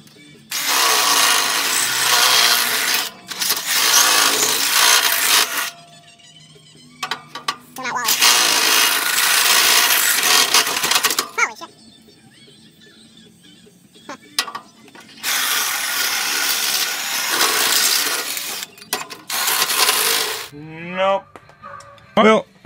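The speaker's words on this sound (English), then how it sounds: "Hopefully enough power left to drill some holes" A power drill whines through wood in long bursts while making a mower clutch, with quiet pauses, small handling noises and brief talk between the runs.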